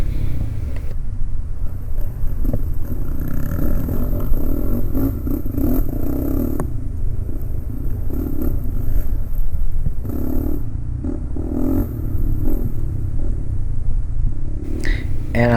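An ATV four-wheeler engine runs steadily through a hare scramble race at Pleasant Creek Raceway, Grafton, WV, a loud, continuous rumble with shifting throttle and clatter.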